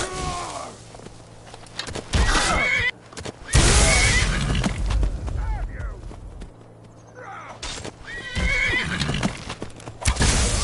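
Horse neighs and clip-clopping hooves in the video game Skyrim, with loud whinnies rising in several bursts over footsteps and background game sounds.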